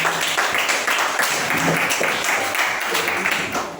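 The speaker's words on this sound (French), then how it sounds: "Acclamons ça." Congregation clapping steadily in a church, a dense continuous wash of applause lasting a few seconds, with voices mixed in under it.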